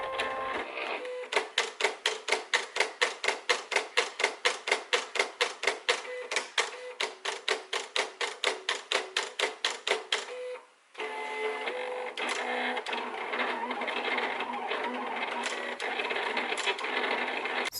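A Silhouette cutting machine cuts vinyl lip gloss labels with a rapid series of rhythmic mechanical pulses, followed after a brief pause by a steadier whirring carriage movement, all close and moderately quiet.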